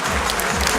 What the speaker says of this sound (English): How about another big round of applause for Pedro?